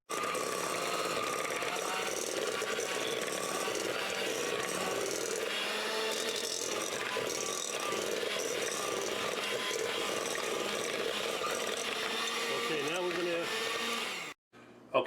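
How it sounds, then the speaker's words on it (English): An electric hand mixer beating cookie dough for coconut cherry cheesecake thumbprint cookies, a steady whirring motor drone that runs for many seconds, close and fairly loud, then cuts off near the end. "now I've beaten it up with a mixer"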